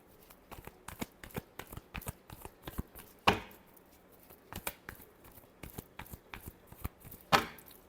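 Tarot cards are shuffled by hand in a run of quick, crisp riffles and taps, close and dry, with two sharper snaps partway through and no voices.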